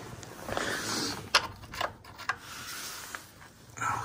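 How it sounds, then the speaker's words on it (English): A 17mm spanner works loose metal fuel piping on an Audi S3, giving faint ratcheting clicks, scrapes and small metallic knocks at close range, with no talk. "I'll get my 17mm spanner and I'll go ahead and loosen this metal piping."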